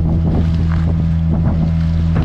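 A motorboat heads out from Karli creek into the open sea toward Nivti lighthouse, its engine droning low and steady under gusty wind buffeting the microphone and splashing water, loud and close throughout.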